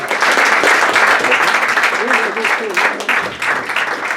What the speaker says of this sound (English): Give them a round of applause for Chris.